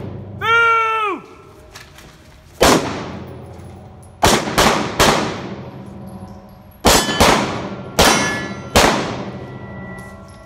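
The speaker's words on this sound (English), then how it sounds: "I got carried away and started shooting the target with my pistol" Pistol shots ring off a steel target, a series of sharp metallic clangs with long ringing decays, spaced irregularly in pairs and singles, preceded by a brief rising whistle-like tone.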